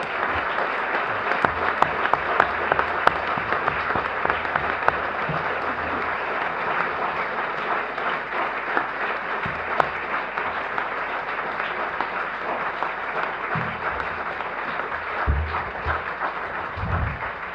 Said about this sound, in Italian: Questi applausi mi impediscono di aggiungere qualsiasi altra cosa